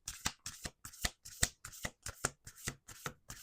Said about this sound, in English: 1 more shuffle.